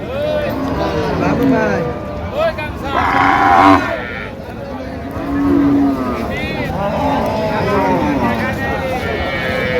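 Cows and calves lowing at a rural cattle market, several drawn-out moos rising and falling across the stretch amid busy crowd chatter and voices nearby.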